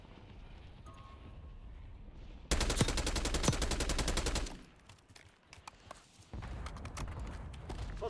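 Gunfire in the video game Warzone: quiet ambience breaks into a loud two-second burst of rapid automatic fire, fades to near silence, then louder rattling shots resume at the end.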